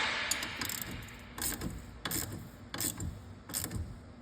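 A ratchet tightens an 18 mm bolt during a broken CV axle removal, clicking in rapid runs of pawl ticks separated by short pauses at the end of each swing. The clicks are close and fairly quiet, with no voices.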